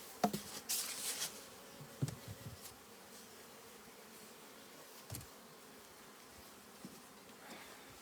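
Soft, steady buzzing of honey bees at an open hive in cold weather, with occasional knocks and clicks of handling nearby.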